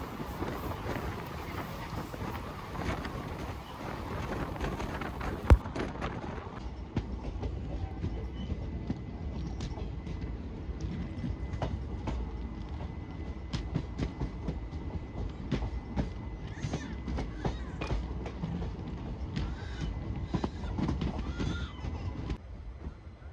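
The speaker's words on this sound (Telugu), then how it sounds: "హైదరాబాద్ కర్నూలు టౌన్ హండ్రీ ఎక్స్ప్రెస్ మళ్ళీ క్రాస్ చేసుకుంటూ వెళ్తుంది." The Hyderabad–Kurnool Town Hundry Express crosses on an adjacent track, a low, fairly faint rolling rumble with a sharp drop in hiss early on, then steady clatter throughout, with occasional crow caws and no speech.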